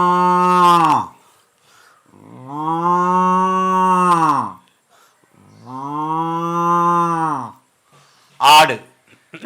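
A performer on a comedy show imitates a cow mooing with his voice: two long, drawn-out, loud moos, with a short call before them and another after, separated by brief silences.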